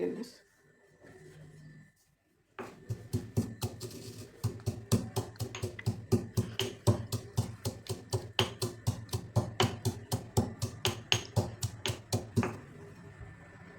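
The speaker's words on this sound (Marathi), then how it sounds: "मी खलबत्त्यामध्येच कुटणार आहे तर अगोदर बडीसोप कुटून घ्यायची जाडसरच कुटायचे" Fennel seeds pounded coarsely in a mortar and pestle, a quick run of sharp, evenly spaced thuds and knocks close by, going on for about ten seconds after a quieter opening.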